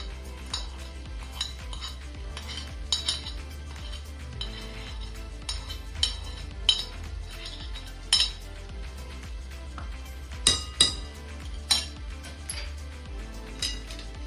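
Ground edible gum being stirred into semolina halwa in a pan, a close series of scraping strokes and clinking spoon knocks against metal over a low steady hum.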